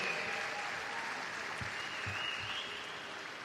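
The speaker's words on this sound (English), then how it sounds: "A round of applause for our medalists and our relay team." Crowd at a swimming championships applauding medalists and a relay team, an even, sustained wash of clapping heard at a moderate distance without speech.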